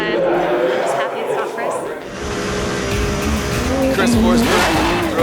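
A Nissan 370Z drift car at a Formula D event in the Pacific Northwest slides past with loud, sustained tire squeal and a rising, revving engine, under excited commentary and track noise.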